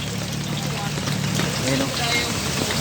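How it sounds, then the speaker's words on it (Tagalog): Heavy rain pours steadily in Angeles, Pampanga, a continuous dense wash of noise with no breaks, and someone speaks briefly over the downpour. "Super grabe lakas ng ulan dito."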